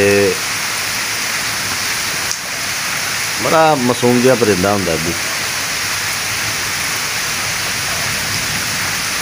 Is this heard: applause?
no